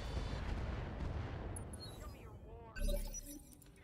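Mech weapons firing in the RogueTech BattleTech game, a heavy rumbling barrage of booming shots that fades out, then another sharp blast with shattering debris, over faint game effects.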